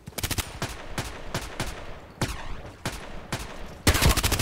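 An H&K MP5k submachine gun fires single shots in the shooter game Contract Wars: about a dozen sharp, evenly spaced reports with short echoing tails, ending in a louder rapid cluster.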